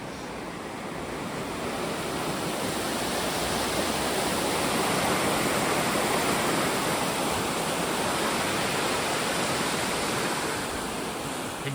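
Steady broadband rush of river water flowing beneath a swarm of flies near a small garden centre, constant and fairly loud with no voices.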